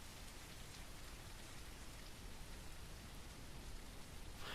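Steady rain in a western sci-fi horror video game, a dense, even hiss of falling drops that fills the scene without pause at a constant moderate level, with no voices over it.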